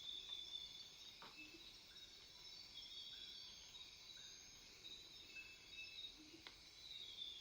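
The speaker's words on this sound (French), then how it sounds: "Vous entendez même des insectes." Insects chirping in a tropical jungle, a steady high-pitched shrill drone running throughout, with faint soft rustling and a few distant chirps beneath.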